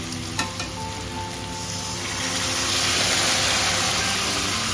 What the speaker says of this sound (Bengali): নাড়াচাড়া করে নিন। একটু ভাজা হতে দিন।